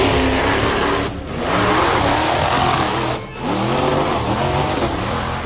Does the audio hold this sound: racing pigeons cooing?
no